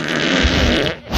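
A loud, close fart with a sustained low, buzzy rasp lasting about a second, with a brief second burst at the end.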